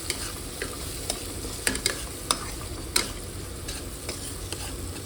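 Turmeric and coriander powder are stirred into chutney in a frying pan, with a steady sizzle broken by repeated scraping taps from a spoon at an irregular pace, close and with no talking.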